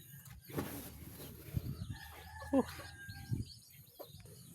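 A chicken sets down on a floor in a home setting, giving a few brief clucks and chirps amid low background noise and some handling sounds; no clear talking.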